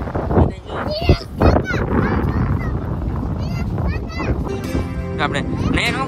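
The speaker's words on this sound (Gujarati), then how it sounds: "પવન કેટલો મસ્ત આવે" Sea wind at Patva gusts into the microphone as a loud, continuous rushing roar, with people, including a child, talking over it throughout.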